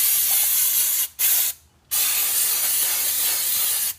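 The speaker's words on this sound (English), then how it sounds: "give the rotor one last squirt, one last clean" Brake cleaner spray hisses onto the front brake rotor of a 1996 Honda CR-V in three loud, close bursts. The first is long, the second short, and after a brief pause a final long squirt runs nearly to the end.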